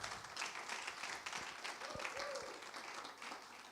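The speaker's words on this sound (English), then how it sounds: "Please, a small round of applause for Ulf." Faint, scattered clapping from a small audience, brief and distant, with a few indistinct voices murmuring underneath.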